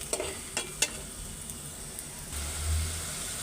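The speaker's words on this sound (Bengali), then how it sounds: "এই যে মশলা কষাই ফেলছি" Spices and curry fried in a pan with browned onion, a soft continuous sizzle with a few sharp stirring clicks early on, then a low rumbling swell toward the end, fairly quiet.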